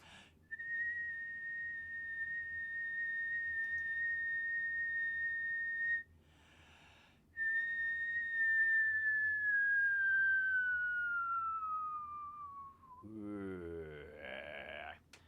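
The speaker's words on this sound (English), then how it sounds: "that's me whistling" A single sustained whistled tone held steadily, broken by a brief pause, then resumed and slowly sliding lower before fading out.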